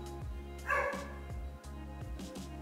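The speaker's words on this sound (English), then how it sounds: "Not Oscar barking right now" A dog gives a short bark indoors, moderately close, against a steady low hum with faint repeating thumps.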